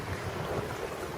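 Wind and waves in Subic Bay slapping around a dive barge and floating bar, heard as a steady broadband rush of gusting wind and churning water with low-end buffeting, no voices.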